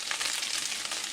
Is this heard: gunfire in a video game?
no